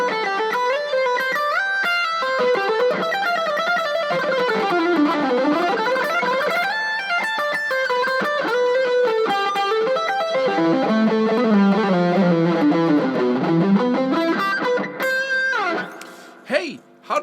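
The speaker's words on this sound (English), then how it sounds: "how do you silence this instrument when you have a lot of distortion on it?" An electric guitar played with heavy distortion runs in fast, loud melodic lines that climb and fall, sustained and continuous, ending in a few abrupt stops and bursts near the end.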